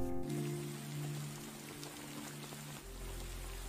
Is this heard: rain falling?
yes